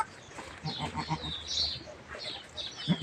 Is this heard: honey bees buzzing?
no